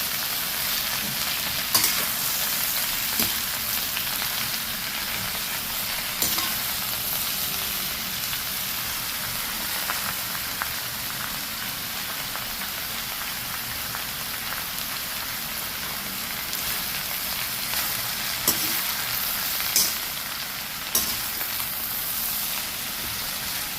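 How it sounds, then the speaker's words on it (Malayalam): Plantain and snake gourd pieces for Kerala aviyal stirred in a pan, a continuous soft crackling sizzle with scattered clicks of the spoon against the pan across the whole stretch, and no voices. "ഇത്രയും സാധനങ്ങൾ ചേർത്തിട്ട് ഒന്ന് ഇളക്കാം"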